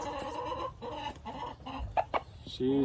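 A buff Orpington hen clucks close by in a short series of soft, rhythmic clucks and a couple of sharper squawks, ending on a higher drawn-out call.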